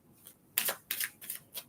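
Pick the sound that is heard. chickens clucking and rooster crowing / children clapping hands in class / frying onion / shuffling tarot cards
shuffling tarot cards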